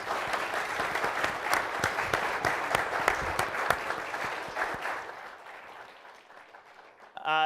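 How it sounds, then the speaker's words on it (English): A crowd at a fireside chat event claps steadily for about five seconds, the applause fading out, followed by a brief tonal sound at the very end. "Let's give them a round of applause, please."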